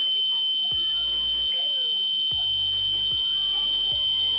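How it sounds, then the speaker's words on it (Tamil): Electronic water level indicator buzzer giving a loud, steady high-pitched tone that persists throughout as the water tank fills toward 95%, with faint background knocks beneath. "நம்ம பஸ்ஸர் சவுண்டும் இன்க்ரீஸ் ஆகுது."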